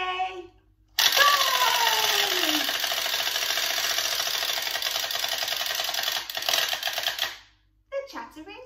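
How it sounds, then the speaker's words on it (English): A wind-up chattering teeth toy clatters on the floor, a loud continuous mechanical rattle that runs for about six seconds and then winds down and stops, with a voice heard briefly before and after. "The chattering teeth."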